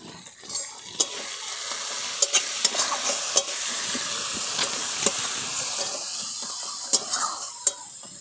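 Spiced masala with ground coriander and cumin frying and sizzling in a pan after a splash of water, a steady close hiss broken by sharp scraping clinks of a spoon stirring against the metal.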